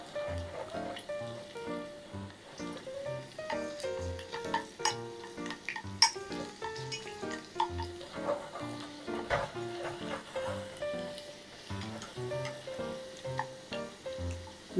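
Ingredients for a whole-lettuce salad deep-fry in a pot of oil until golden, giving a steady crackling sizzle broken by frequent clinks and stirring knocks close by.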